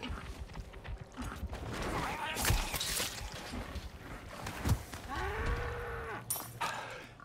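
A cow moos once with a drawn-out, sliding low call, amid clattering mechanical noises and thumps in a busy scene of the Resident Evil 4 remake video game.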